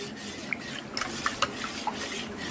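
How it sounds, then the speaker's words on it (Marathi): Spoon stirring strained solkadhi, a kokum and coconut milk drink, in a bowl, giving soft continuous rubbing and scraping with a few light clinks, close and fairly quiet, no talking. "मी आता ते घट्ट गाळून घेतलेलं आहे, पण चांगलं ढवळून घेऊया।"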